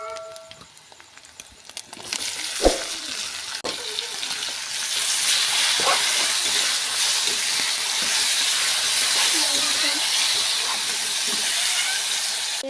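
Chopped tomatoes hit a hot pan with turmeric and salt, and a loud, steady sizzling hiss takes over after a couple of soft clatters and carries on unbroken to the end.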